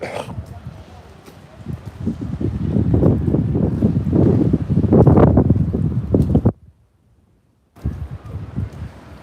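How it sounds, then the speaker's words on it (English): Warm wind gusting across the microphone at Caen Castle in France, a loud, rough rumble that swells and buffets for several seconds, drops out abruptly into near silence, then returns. "Warm wind though."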